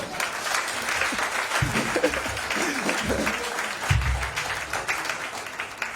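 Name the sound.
church congregation applauding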